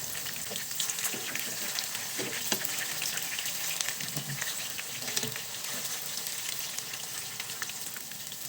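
Pork meatballs frying in a pan give a dense, continuous sizzle with scattered crackles and pops, close and steady with no talking.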